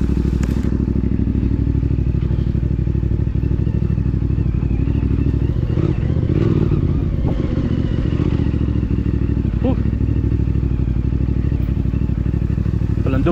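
A 450MT motorcycle engine starts again and idles steadily on a grassy, rain-soaked rural back road, a close, continuous low rumble with a few clattering knocks and thuds over it.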